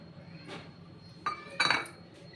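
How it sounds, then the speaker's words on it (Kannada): A serving spoon clinks and scrapes against a metal plate and pot as cooked rice is dished out in a home kitchen, with a few sharp, bright clinks over quiet room noise. "ಅನ್ನ ಬಡಿಸ್ತಾ ಇದ್ದೀನಿ"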